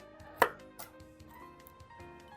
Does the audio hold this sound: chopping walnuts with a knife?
yes